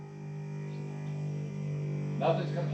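A 1993 Mustang's electric fuel pump, pulling 20-year-old race fuel, runs with a steady low hum that holds throughout; voices come in near the end.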